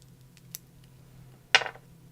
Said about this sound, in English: So I'm just going to snip off a tiny bit.